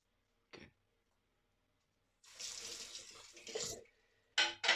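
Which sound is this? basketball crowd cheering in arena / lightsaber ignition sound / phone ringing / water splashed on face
water splashed on face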